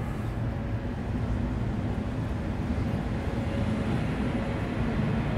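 Steady low mechanical rumble with a constant hum from an X60 train idling inside an enclosed wash bay in Gothenburg, no voices.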